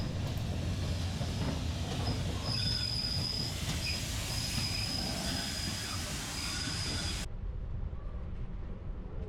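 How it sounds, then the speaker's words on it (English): A steam train at the Watchet heritage railway on the coast, heard as a steady, loud rolling rumble of rail cars with wheel noise and faint high squeals, running continuously before cutting off abruptly near the end. "where there were steam trains to be seen"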